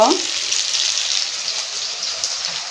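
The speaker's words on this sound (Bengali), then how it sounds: "আজকে রান্না করব মাছ ভাজি করব" Fish frying in a pan gives a bright, steady hiss and sizzle, fairly close and loud, holding evenly throughout with no talk.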